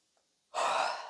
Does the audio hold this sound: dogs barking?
no